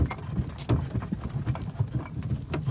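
A working mare's hooves clip-clop at a steady walking pace, close and fairly loud, with regular rhythmic strikes and no talk over them.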